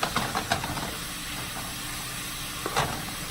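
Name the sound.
meat frying in a pan for spaghetti sauce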